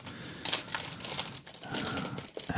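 A small zipper case is drawn out of a traveler's notebook and handled up close, giving soft crinkly rustles, scrapes and brief taps in irregular bursts, with no speech.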